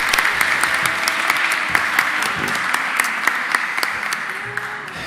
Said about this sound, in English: I think we should give them a big applause to thank you for that